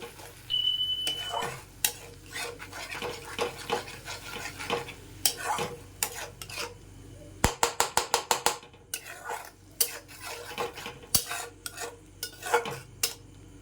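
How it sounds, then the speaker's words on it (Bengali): A spoon stirs potol and prawn curry with a little water in a pan, scraping and clacking in irregular bursts, including a quick run of rhythmic taps, over a faint sizzle. "এবারে জল দিয়ে এটাকে ভালো করে নাড়াবো"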